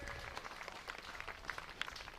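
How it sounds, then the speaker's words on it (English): Distant crowd applause drifting across from the men's singles at a lawn bowls national championship, a soft, steady patter of clapping that stays faint throughout. "Applause out there in the men's singles."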